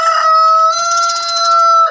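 A rooster on a chicken farm crows once, loud and close, a long drawn-out call that holds nearly two seconds before breaking off.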